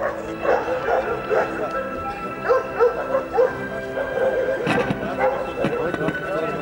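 Dogs at a dog show bark and yip in short, quick bursts, some whimpering, close by, with people talking in the background.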